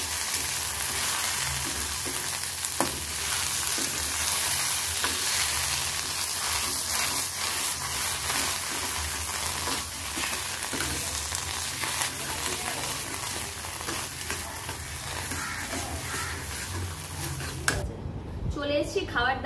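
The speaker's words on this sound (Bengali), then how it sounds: "দিয়ে এটাকে ভালো করে আমি নাড়িয়ে চাড়িয়ে মিশিয়ে নেব" A dish of potol (pointed gourd) peels fries in a pan while being stirred, giving a loud, dense, continuous sizzle that cuts off sharply near the end.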